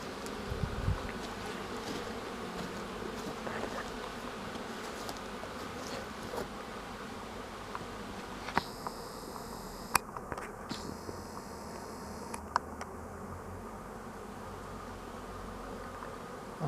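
Honey bees droning steadily around a weak hive in an apiary in early March, a continuous close buzz with brief louder passes of individual bees and a few faint clicks.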